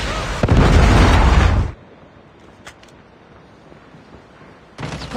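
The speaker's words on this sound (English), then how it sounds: "Friendly predator missile inbound." A predator missile explosion in Call of Duty Mobile lands as a loud, close blast lasting over a second, followed by quiet game ambience and a second burst at the end.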